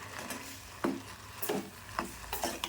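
A few quiet, close scraping strokes of a utensil stirring a tomato stir-fry with ground roasted peanuts in a pan, spaced about half a second apart.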